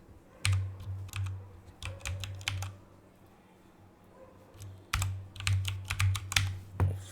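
Rapid clicking of a computer keyboard as Python code is typed, bursts of keystrokes with a short pause in the middle, fairly quiet and close, no voices.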